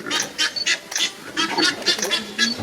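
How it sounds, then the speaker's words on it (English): Several geese standing their ground against a baboon on safari honk and squawk in rapid, overlapping bursts, loud and close, with barely a pause between calls. "a determined group of geese boldly stand its ground against a baboon"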